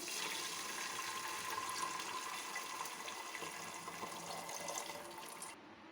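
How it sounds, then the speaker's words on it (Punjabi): Strained jaggery water pours steadily into a pan for a jaggery sweet rice dish, a continuous rushing splash that holds evenly and then tapers off. "ਤੇ ਹੁਣ ਅਸੀਂ ਇਹਦੇ ਵਿੱਚ ਗੁੜ ਵਾਲੇ ਪਾਣੀ ਨੂੰ ਛਾਣ ਕੇ ਪਾ ਦਾਂਗੇ"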